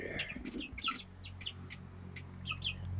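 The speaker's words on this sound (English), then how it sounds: "And there's Mr. Rooster over there, too." Hens and roosters cluck and chirp in short bursts over a steady low hum, the calls fairly close and repeating throughout.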